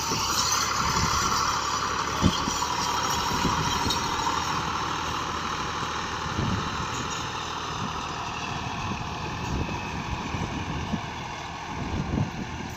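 A Massey Ferguson 260 tractor pulling a disc harrow runs with a steady, unbroken diesel drone, close and fairly loud, with rumbling texture and some wind buffeting.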